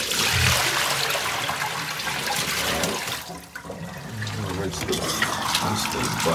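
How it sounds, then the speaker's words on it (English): Rainwater poured out of a bucket outdoors in the early morning, a loud continuous gushing splash that eases briefly midway and then resumes, with a person talking intermittently underneath. "We're gonna pour this water."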